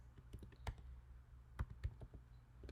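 Faint keystrokes on a computer keyboard tap out in an irregular sequence of short, close clicks, with a few sharper presses standing out.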